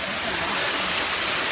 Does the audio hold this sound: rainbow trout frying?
no